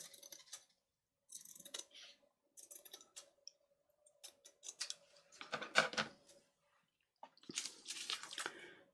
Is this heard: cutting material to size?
yes